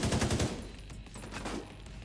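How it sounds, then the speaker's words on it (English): Rapid automatic gunfire in a shooter video game, a loud dense burst of shots at the start, then a rumbling, crackling tail of further distant fire. "That was some shooting."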